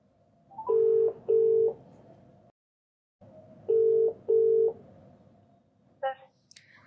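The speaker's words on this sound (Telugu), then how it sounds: "ఒకసారి కాల్ చేస్తానండి" A phone call plays out as a run of paired beeping tones that repeat after a silent gap, over a low hum, and then a short higher tone burst near the end.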